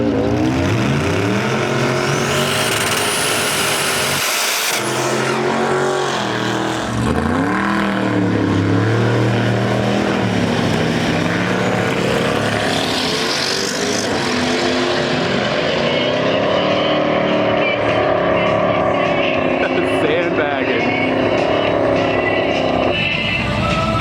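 Twin turbo Mazda RX-7 launching off the line at a drag strip, a loud high-revving rotary engine with rising and falling pitch sweeps as it shifts, close and continuous.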